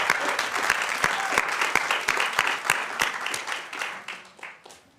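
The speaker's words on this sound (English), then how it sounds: "Let's give them one last round of applause." Dense, steady applause from a crowd at a City of Fort Worth Juneteenth employee celebration, many hands clapping close together. Louder individual claps pop out over the wash, and it gradually thins and fades over the final second.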